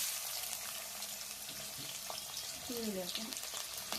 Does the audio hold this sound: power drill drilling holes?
no